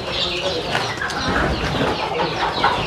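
Free-range country chickens cluck and chatter in a simple roofed roosting shelter, several birds calling close by in overlapping bursts over a busy background.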